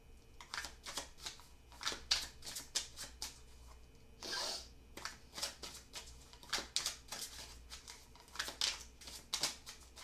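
Tarot cards are shuffled close by in quick repeated riffling bursts, crisp flicking snaps coming in uneven clusters with a longer rustle midway.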